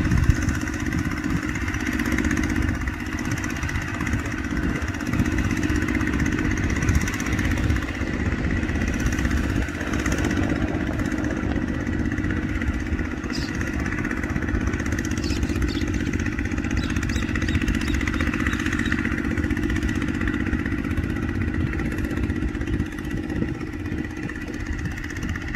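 A tractor engine running steadily in a field, with a continuous loud low drone and rumble that keeps at the same level throughout, and no talk over it.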